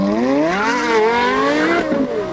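A Lexus LFA and a Porsche Carrera GT launch in a quarter-mile drag race. Their engines scream loud and close, with a steadily climbing pitch as they accelerate hard, and the tone wavers near the end.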